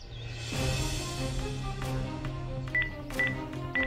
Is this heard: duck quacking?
no